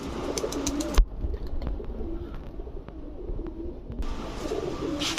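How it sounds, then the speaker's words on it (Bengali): Large Giribaz pigeons from Rajshahi cooing nearby, a series of low soft coos repeating over a faint background, with a brief louder burst near the start. "এরপরে হচ্ছে রাজশাহীর 1 জোড়া বড় সাইজের গিরিবাজ কবুতর"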